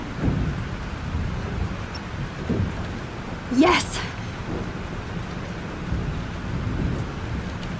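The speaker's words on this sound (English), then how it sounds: "This storm is real." Steady rain and a thunderstorm in the video game Life is Strange, with a sharp crack of thunder midway and low rumbling throughout as someone briefly cries out.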